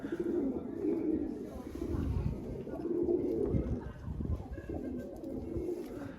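Homing pigeons coo softly in repeated low, throaty phrases, rising and falling in a steady rhythm at moderate distance, with faint outdoor background and no voices.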